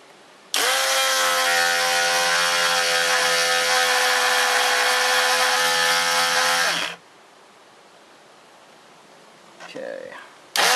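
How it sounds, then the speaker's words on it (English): Chainsaw sharpening grinder dressing a rounded chain cutter, a loud, close, high whining grind lasting about six seconds that stops abruptly, followed by quiet and a brief faint noise near the end. "So this grinder is going to take that right out."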